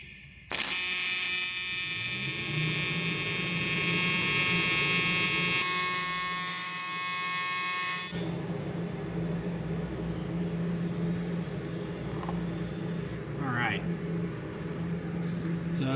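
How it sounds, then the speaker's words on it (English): Steady, harsh buzzing hum of a welder laying a bead on a cast aluminum engine head for a 2000 Camaro SS, loud and continuous for several seconds before dropping to a quieter hum. "welding cast aluminum is really hard"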